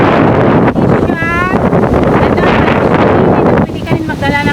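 Strong wind gusts across an open park by a flight of stairs, a loud, continuous roar buffeting the microphone, with brief chirpy tones partway through.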